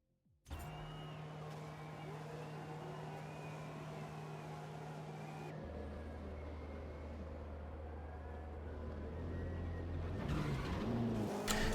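A car drives in the GRID 2019 racing video game, with a steady engine drone that drops in pitch midway and then builds, and a sharp crunch of a collision near the end.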